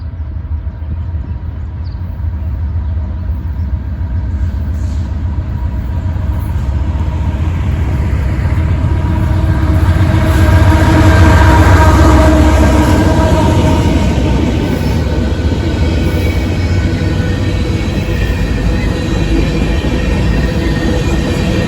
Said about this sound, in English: the daily Columbus, Ohio to Selkirk, New York mixed freight train